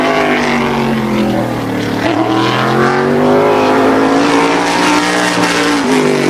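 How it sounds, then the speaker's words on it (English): Tour-type modified race car on its qualifying lap at Wall Stadium during the Turkey Derby weekend, a loud, sustained engine roar that climbs and falls as it accelerates and lifts through the turns, close and steady throughout. "He takes green flag for lap number 1 in car"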